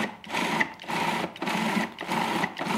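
A Cuisinart food processor pulses scone dough studded with currants in three short bursts, each a steady whirring buzz cut by brief pauses, close and fairly loud with no talking.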